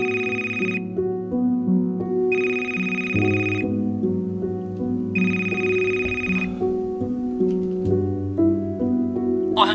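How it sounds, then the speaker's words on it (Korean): A phone ringtone plays three repeated bursts over a sustained electronic tone, loud and clear with no voices. "어느 날 새벽 1시쯤 한 통의 전화를 받게 됩니다."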